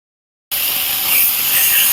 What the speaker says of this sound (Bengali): টমেটোটাকেও একটু ভেজে নেব।